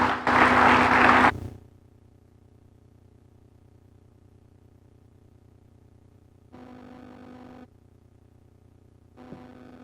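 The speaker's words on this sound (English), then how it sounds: "Another applause for Mr. Ibrahim Sagna" Audience applause at the African Local Content Investment Forum, a short loud burst of clapping at the start that quickly cuts away, followed by low room hum and faint brief noise later.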